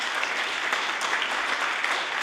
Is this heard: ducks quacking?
no